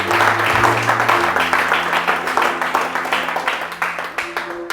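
A church congregation bursts into sustained, enthusiastic applause to acclaim the Lord, many hands clapping in a dense, steady wash that gradually thins toward the end, with a few voices faintly underneath.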